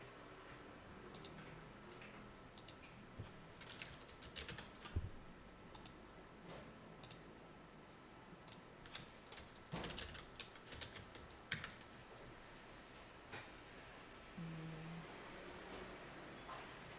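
A computer keyboard is typed on in quick irregular bursts of light clicks, faint and fairly close, with short pauses between runs of keystrokes and a quiet room hum underneath.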